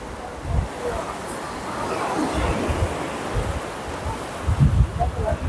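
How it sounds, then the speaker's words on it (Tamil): Big sea waves roll onto a windy shore at Mathagal near Jaffna, a steady broadband wash of surf mixed with gusty wind buffeting the microphone and a few heavier low thumps. "நல்ல அலையும் வந்து ஒரு பெரிய ஒரு அலையாக தான் இருக்குது காற்றுக்கு"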